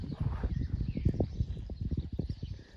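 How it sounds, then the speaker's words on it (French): Horse hooves clip-clopping at a fast, driving gait during a riding lesson as the horse rushes toward the outside of the arena, a close, rapid and steady run of hoofbeats with no talk over it. "Là, le cheval fonce. Là, il fonce à l'extérieur."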